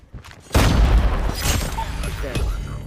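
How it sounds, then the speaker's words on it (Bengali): A frag grenade detonates in the mobile shooter Call of Duty Mobile, a sudden loud boom that rolls into a long rumbling, crackling tail amid game sounds. "Frag out. Grenade grenade."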